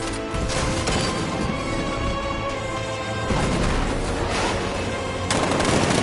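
Loud, dense Batman: Arkham Knight combat with heavy 60mm tank cannon blasts and rattling gunfire over a mechanical rumble, continuous throughout with sharper bursts near the end.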